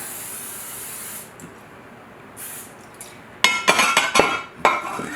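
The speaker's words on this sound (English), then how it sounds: "So all I do with these is I spray them with some non-stick spray." Aerosol cooking spray hisses in several short bursts, then metal pans clatter and clink close by.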